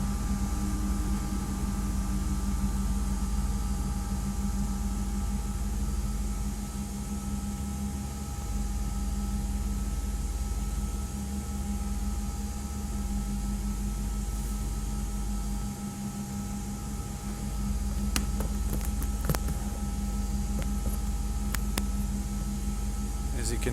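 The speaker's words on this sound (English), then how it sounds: "As you can hear, the engines here more louder, of course." The CRJ jet engines in a flight simulator game produce a steady, loud roar with a constant low drone and tonal whine that persists throughout, with a few brief clicks near the end.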